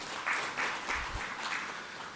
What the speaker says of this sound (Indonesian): Alhamdulillah, tepuk tangan bagi kita.